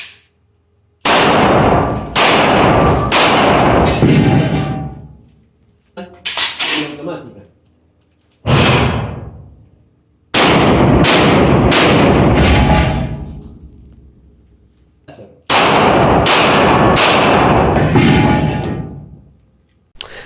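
Loud, close gunfire rings out in clustered bursts: rapid shots from a Glock 17 pistol and booming shotgun blasts, both fitted with Olight weapon lights, with quiet pauses between strings.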